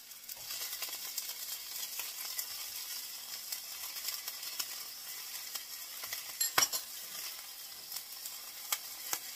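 Shallots and jalapeno peppers sizzle steadily in a hot pan, a soft continuous crackling hiss with occasional stirring scrapes and one sharp utensil clink, no voices.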